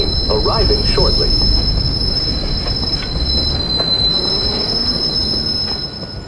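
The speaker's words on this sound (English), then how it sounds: "Southbound train arriving shortly." In the Watch Dogs video game, a southbound subway train pulls into a station, its wheels squealing in a loud, sustained high-pitched shriek over heavy rolling rumble and clatter that slowly fade toward the end.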